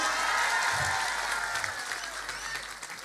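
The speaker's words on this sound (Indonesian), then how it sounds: "Tepuk tangan tuh Hercules." Audience applause for a guest being introduced at an Islamic gathering, a dense crowd clapping steadily throughout and tapering slightly toward the end, with no talk over it.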